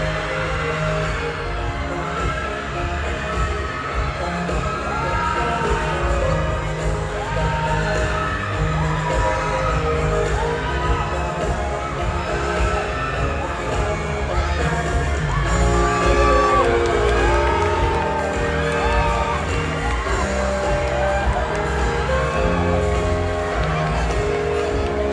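A crowd at a beauty pageant event shouts, whoops and cheers loudly and continuously to win flowers being handed out, a dense roar of many voices with traffic noise mixed in.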